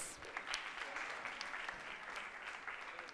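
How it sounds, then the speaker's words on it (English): Audience applause for senior high school teams at a zonal cooking and art event in Ghana, a continuous wash of distant clapping from a large crowd, steady and fairly faint. "let's give them a big round of applause"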